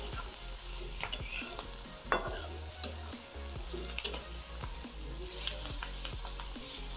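Onion frying with coconut, garlic and ginger paste in a pan, a steady close sizzle broken by sharp scraping strokes and clinks of a spoon stirring the mixture.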